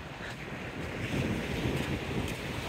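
Ocean waves wash over a sandbar on a cold, windy beach, a steady roar of surf mixed with rough wind buffeting on the microphone, swelling slightly toward the middle.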